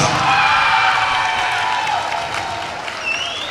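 Crowd applause for cheerleaders at a varsity men's high school basketball senior night, a dense, steady wash of clapping and scattered cheers filling the gym, easing slightly toward the end.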